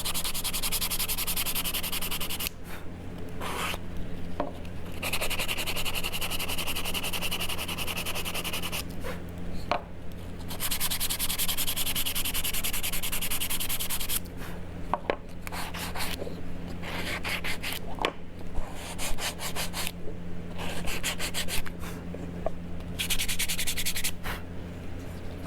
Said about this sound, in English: And I can take my finer sandpaper and make it so smooth.